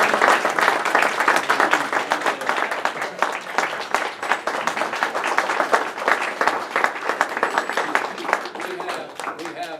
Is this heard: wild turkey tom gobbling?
no